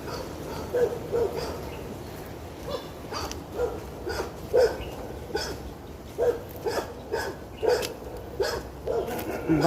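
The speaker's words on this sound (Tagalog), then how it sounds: "Maraming aso." Several dogs barking outdoors in the Tsuen Wan countryside, short sharp barks repeating irregularly at moderate distance, with faint background ambience and occasional movement.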